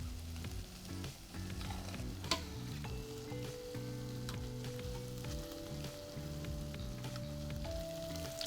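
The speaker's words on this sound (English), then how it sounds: "I'm gonna fry off this very last batch of churros" Churros frying in hot oil make a continuous, close crackling sizzle that holds steady throughout, with no voices present.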